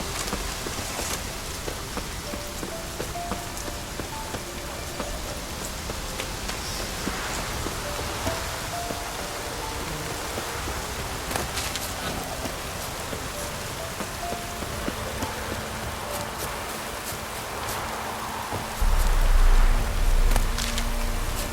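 Steady rain falls in the video game The Witcher 3: Wild Hunt on PS4, a continuous even hiss of drops on surfaces throughout, with a slightly louder burst near the end.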